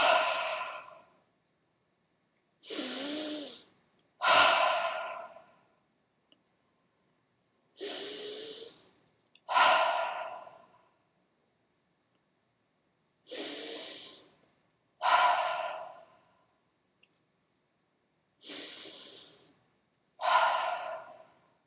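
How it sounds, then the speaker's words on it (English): Deep breaths drawn in and released as long sighing exhales, about eight slow cycles spaced by silent pauses, close and alone with no talking. "I'm going to take a deep breath and release."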